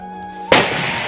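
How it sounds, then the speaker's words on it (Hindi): A firecracker set off during Bhai Dooj-season festivities in Nepal bursts with a single sharp, loud bang halfway through, following a steady hum, and leaves a noisy crackling tail. "हम लोग ने ना पटाखे फोड़ने चले गए थे"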